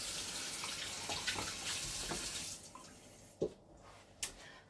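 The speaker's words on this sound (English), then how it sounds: "I'm going to add just a splash of cold water." A kitchen tap runs steadily into a bowl holding a cracked egg for an egg wash, then cuts off, followed by a couple of small splashes and drips.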